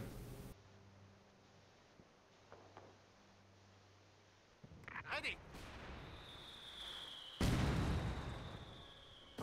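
Mortar or artillery fire in Company of Heroes 2, a World War II strategy game battle in the Lienne Forest: a few booming blasts and a sharp crack, with rumbling aftermath and a rising whine near the end.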